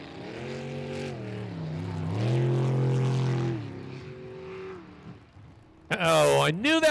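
Racing engine of a 400-class sprint boat, heard as a sustained, shifting harmonic drone across a live race commentary, with a loud rising surge near the end as the throttle changes; a commentator talks over it.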